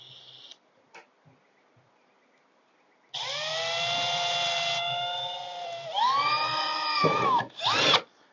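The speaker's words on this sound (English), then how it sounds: "What I want to do is just drill through the back here, doing this on the glass tank" A power drill bores through the back glass pane of an old aquarium tank, whining steadily for several seconds, then stopping and restarting with rising and falling pitch, close and loud.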